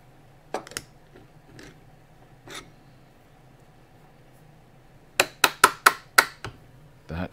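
Metal clamp being fitted and tightened down through a workbench during a dust extractor build: a few scattered knocks, then a fast burst of six or seven sharp close clicks and clacks, with a faint hum underneath.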